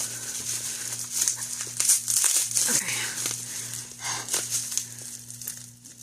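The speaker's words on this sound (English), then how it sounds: "so I can be done with the bubble wrap" Crackly crinkling of bubble wrap being handled close by, in irregular bursts over a steady low hum.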